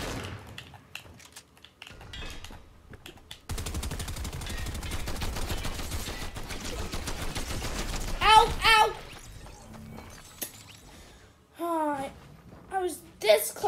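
Bursts of rapid gunfire from the video game Fortnite, mostly a sustained rattling stretch in the middle, with someone talking excitedly over and between the shots.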